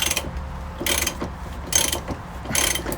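A hand ratchet clicks in four quick bursts of back-and-forth strokes as the top strut nuts are undone on a BMW M3 during spring lowering, close and fairly loud over a low workshop hum, with no talk.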